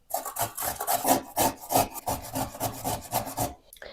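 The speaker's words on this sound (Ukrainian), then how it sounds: "А моркву натру на велику терку." Carrot rubbed against a coarse kitchen grater in a steady, close rasping rhythm of quick repeated strokes, fairly loud and alone, stopping just before the end.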